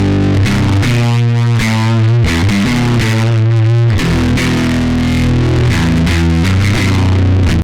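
Electric guitar played through a broken digital compressor with a very fast attack, heavily distorted and crunchy in a JCM amp-like style, with sustained chords and shifting notes running loud and continuous throughout.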